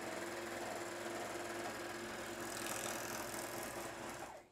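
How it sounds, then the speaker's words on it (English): A Juki MO-1000 serger stitches a seam through fleece, its fast, steady mechanical whir running close and loud and unbroken for several seconds before stopping abruptly. "I'm stitching a seam and I'm finishing off the edges with a more professional look at the same time"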